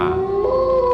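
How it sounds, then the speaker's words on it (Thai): A single sustained dog howl, loud and close, holding a wavering tone for about a second. "ได้ยินเสียงหมาเห่าดังมาจากข้างนอก"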